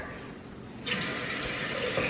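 Water pours for making oat milk, starting as a soft trickle and then becoming a fuller, steady splashing stream partway through, close and alone.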